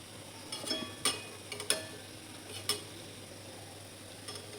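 Potato bhaji frying in hot oil, with a soft, steady sizzle running throughout and a few sharp clinks of a utensil against the pan breaking through at intervals.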